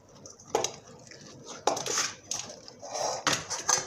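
Pigeon feed is mixed with chutney in a bowl, giving intermittent wet scraping and clinking strokes of a utensil against the bowl, with brief pauses between.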